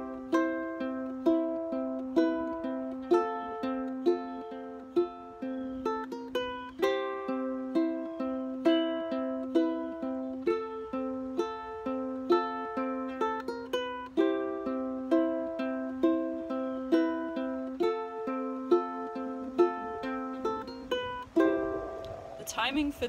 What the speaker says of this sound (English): The second way you can do it is to add the little embellishments that would be played on the piano at the beginning